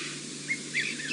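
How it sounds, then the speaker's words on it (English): A distant bird calls a few times in short, high whistled phrases over a steady background hiss; the red-chested cuckoo's three-note call is faint and far off. "In the distance there's a bird calling, and it's saying Piet my vrou"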